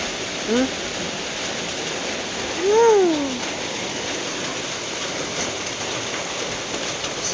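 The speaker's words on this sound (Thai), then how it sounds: "เดี๋ยวฝนซาจังหน่อย" Heavy rain falls steadily through the night beside a pig pen, a dense, even hiss that runs the whole time, with a brief animal call rising above it early on.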